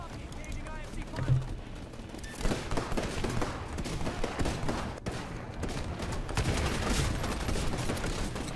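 Gunfire crackles through a Titanfall campaign battle on a colony map, a steady run of rapid shots and impacts, with game voices and radio chatter over the top.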